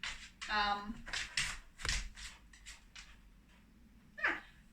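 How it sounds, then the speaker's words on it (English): A dog barks and whimpers in short bursts, yips and whines coming close and fairly loud, with quieter pauses between them. "Crazy dog. Crazy dog."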